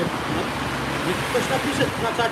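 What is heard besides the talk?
cars driving past in the background near a bridge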